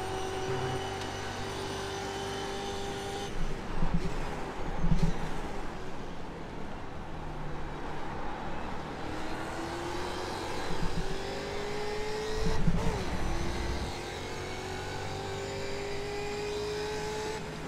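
Radical race car engines in the iRacing simulator at Daytona, a steady high-pitched engine whine with rising gear tones and a few passing surges, moderately quiet.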